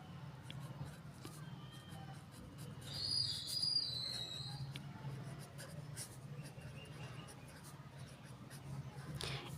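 A pen scratches out a written definition in quiet, soft strokes, close but faint, against a low hum. A brief whistling tone rises partway through.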